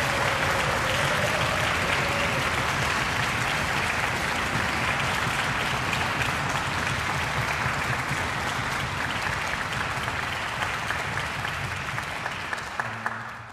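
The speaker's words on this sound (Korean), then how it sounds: "수고한 우리 학생들 다시 한번 큰 박수 부탁드립니다." Sustained, dense audience applause for university music students at a Yeongnam University concerto night, steady and full throughout with many hands clapping, tapering slightly near the end.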